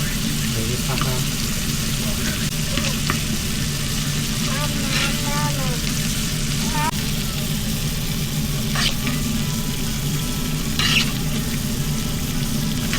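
Shrimp sizzles steadily in a pan in a small van kitchen, a continuous frying hiss with occasional clinks and faint voices in the background.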